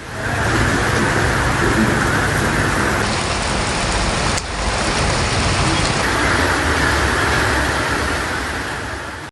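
Steady, loud rainfall pours down across a street in Tamil Nadu, a dense wash of hiss with a brief dip midway and no distinct thunderclap standing out, heard alone without voices.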